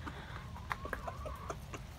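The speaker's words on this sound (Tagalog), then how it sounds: "Kita nyo naman yung mga manok ko. Kain ng mga manok." Backyard chickens feeding on scraps from a garden give soft, irregular clucks and short murmurs, close and fairly quiet, over a low rustle of pecking.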